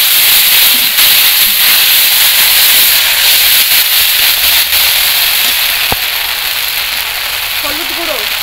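Ginger paste frying with whole cumin seeds in oil sizzles loudly and steadily after a little water is added, a dense continuous hiss with faint sputters throughout.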